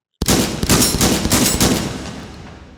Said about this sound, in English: we have a bolt back here that we grab, pull to the rear, let it slam home, and we can just fire away semi-auto